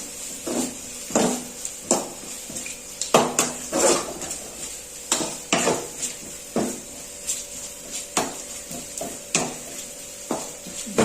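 Okra fry being stirred and mixed in a pan with chilli powder, a close run of regular metallic scrapes and clanks from a utensil against the pan, repeating about once a second with no talking.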